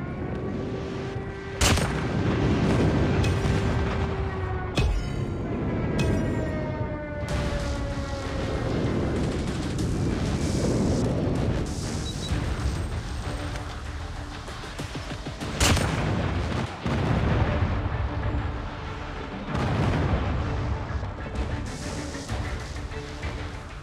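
Airstrike explosions in the video game Call of Duty Mobile, a loud stretch of booming blasts and gunfire with several sharp impacts and rumbling crashes overlapping throughout.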